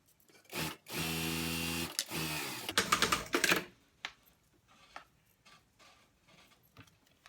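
A sewing machine runs down the side seam of a fleece hoodie, turning at the underarm corner, with a loud motor whir for a couple of seconds, then choppier bursts and faint ticking handling sounds.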